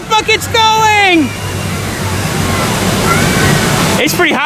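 A huge tipping bucket at the Camp Catastrophe water park on Morey's Piers, Wildwood, unloads with a sustained roaring rush of falling water. People talk just before it and again as the torrent tails off.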